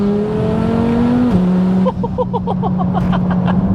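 A fully built 800 bhp Audi RS3 8P engine on low boost drones steadily, its pitch climbing and then dropping as a gear changes, followed by a quick run of rhythmic whooshing bursts from the boost, close and loud.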